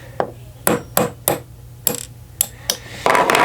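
The brass end of a hammer taps a punch to drive a 1/16 roll pin out of a Ruger LC Carbine trigger assembly, with about eight sharp, close metallic strikes at an uneven pace, alone.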